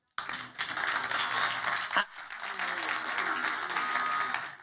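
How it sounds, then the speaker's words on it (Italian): Dense, steady audience applause at an Italian singing show, loud and continuous apart from a brief dip, with a voice faintly beneath. "E che ci vuole l'applauso."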